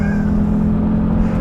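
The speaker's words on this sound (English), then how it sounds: "when you gear down and really accelerate, it's eyes in the back of the head" Audi RS2 Avant wagon accelerating hard after a downshift, a loud, steady engine drone heard from close by, with no speech over it.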